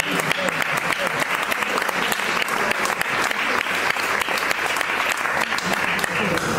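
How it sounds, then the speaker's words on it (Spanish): Sustained audience applause at a tribute to a music maestro, dense and even throughout with sharp individual claps standing out, close and fairly loud. "Nos aplaudimos."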